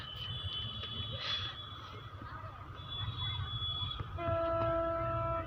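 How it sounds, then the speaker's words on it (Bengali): An approaching train rumbles low and steady, with a horn sounding near the end, heard outdoors beside the tracks with people talking nearby. "ওই ট্রেন আসতেছে"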